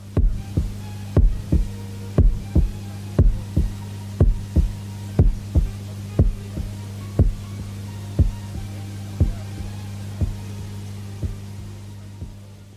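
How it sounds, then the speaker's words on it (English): Heartbeats from the close of an album, a steady slow thump repeating roughly once a second over a low constant hum, even and unaccompanied. "over the album's closing heartbeats"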